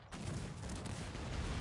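Dense, continuous roar of massed cannon fire from a Cossacks 3 multiplayer battle, a loud unbroken barrage with heavy low rumble and no distinct individual shots, running without talk for under two seconds.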